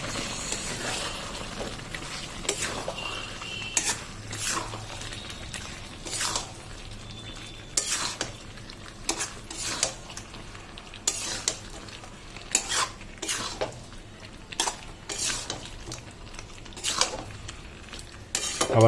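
Chicken kosha being stirred in a pan: repeated metal spatula scrapes and knocks against the pan in an uneven rhythm over a low sizzle, close by and without voices.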